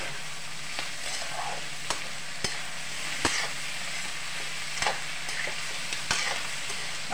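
Vegetable noodle stir-fry with tomatoes just added, sizzling steadily in a hot pan, broken by sharp spatula clinks and scrapes every second or so, close and moderately loud with no talking.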